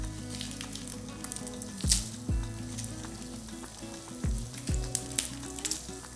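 Torn dried red chillies frying in hot oil for a Telugu dondakaya onion-chilli dish, a steady close sizzle with several sharp low thumps and knocks from the pan or utensil, with no talking.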